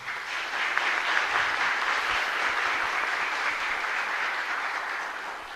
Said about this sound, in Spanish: para quien pedimos un fuerte aplauso también.